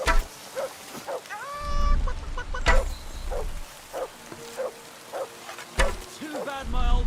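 A man clucking like a chicken in the medieval role-playing game Kingdom Come: Deliverance 2, with short pitched vocal squawks in bursts, a voice imitating a chicken amid outdoor game ambience and low rumbling thuds.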